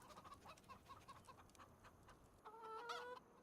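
Chickens in the farming game Farming Simulator 25 cluck in quick repeated bursts, faint and close, followed by a longer drawn-out hen call near the end, with no talking.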